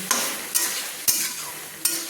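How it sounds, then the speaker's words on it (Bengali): Spices sizzle in a pan with a little water while a spoon scrapes and stirs four times at a slow, even pace. "মশলা জলটা দিয়ে আবারও ভালো করে একটু কষিয়ে নিলাম।"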